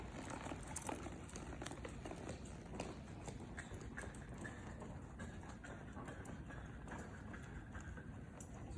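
A mare's hooves clip-clop in a steady, quiet rhythm while being ridden around a circle during a training session, the faint footfalls continuing throughout.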